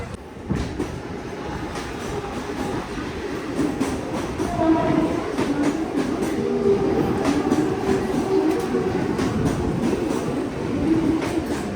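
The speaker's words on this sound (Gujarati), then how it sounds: "ટ્રેનમાં આપણે બેસી ગયા હતા અને જગ્યા અત્યારે સારી મળી ગઈ" A crowded Mumbai local train rumbles along with passengers aboard, a loud continuous rattle of wheels and clattering carriages with rhythmic clicks over rail joints.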